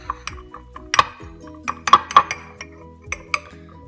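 A utensil clinks sharply and irregularly against a bowl while vanilla cake batter is mixed, the bright taps coming close and distinct in quick uneven bursts.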